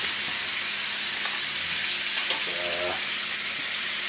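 Onions frying in a pan for chili, with a loud, dense, steady sizzle close by and a brief clink and a short murmur of talk in the middle.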